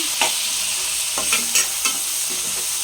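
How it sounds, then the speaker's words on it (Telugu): Onions and tomatoes frying in a pan for a broad bean curry give a steady close sizzle, with a few stirring clicks scattered through. "ఆల్రెడీ ఉల్లిపాయలు బాగా వేగిపోయండి"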